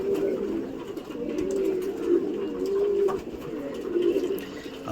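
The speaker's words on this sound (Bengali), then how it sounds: "আর ওইখানেও দেখুন কিছু পায়রা দেখুন ওইখানটাও আছে" Pigeons coo in low, rolling murmurs at a pigeon shelter, several soft calls overlapping close by against a faint background.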